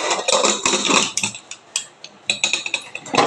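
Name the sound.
big pressure cooker being set down on the stove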